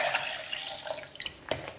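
Two cups of water poured into a blender jar over fried chiles and pepper, a steady splashing pour with a brief louder splash near the end, close and alone.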